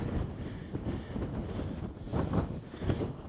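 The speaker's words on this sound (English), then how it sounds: "it's very windy up here, as you can tell" Strong wind buffeting the microphone on a mountain peak in the Silvermines Mountains, Tipperary, Ireland, a continuous low roar with gusty surges growing louder toward the end.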